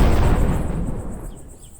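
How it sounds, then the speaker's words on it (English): An in-game explosion in Rosewater blasting open a lab door, a loud booming burst that decays over about a second and a half. "That was a nice explosion."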